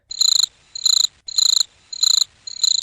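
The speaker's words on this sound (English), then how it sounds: "The one cricket in my room." A single cricket chirps inside a bedroom at night, sounding five evenly spaced, shrill pulsing trills, loud and close against a quiet, still room.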